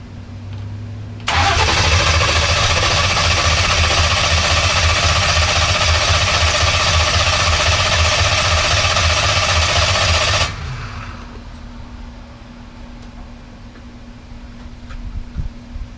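A Chevrolet Nova engine cranks and fires, then runs at a steady, loud idle for about nine seconds to build oil pressure, before it shuts off and leaves a low background hum.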